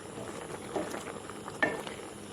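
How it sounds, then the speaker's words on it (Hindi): A pot of food simmers on the stove after Ajinomoto is stirred in and the liquid is cooked down, giving a steady low bubbling with a few faint clinks, close by and with no talk. "तो इसको हम और थोड़ी देर तक पकने देते हैं।"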